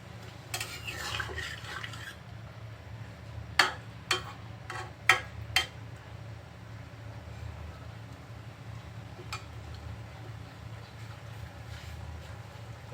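A lid is lifted from a pot of rohu fish and cauliflower curry, followed by a few sharp metal clinks and scraping as the curry is stirred against a low, steady background hum.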